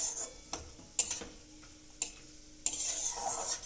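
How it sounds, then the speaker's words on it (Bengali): Vermicelli (semai) frying lightly in oil, a soft sizzle under a handful of sharp utensil scrapes and taps against the pan as it is stirred, close and fairly quiet. "এবার আমি এটাকে একটু তেলের মধ্যে ভেজে নেব, একটু হালকা করে ভেজে নেব। সমানে নাড়তে হবে"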